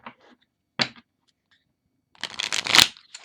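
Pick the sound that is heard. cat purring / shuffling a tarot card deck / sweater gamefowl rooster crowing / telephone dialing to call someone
shuffling a tarot card deck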